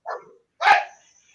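Two short barks from a border collie and Labrador mix dog, loud and close, separated by a brief pause, with no talking over them.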